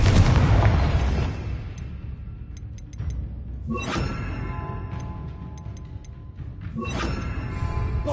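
A fiery Confringo spell blast in Hogwarts Legacy, a loud booming burst at the start followed by several more sharp cracking impacts with crackling debris and a lingering rumble, no talking.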